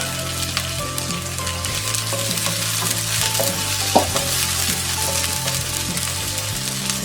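Onion fries in a pan with a steady, close crackling sizzle and occasional light utensil clinks, continuous throughout without voices.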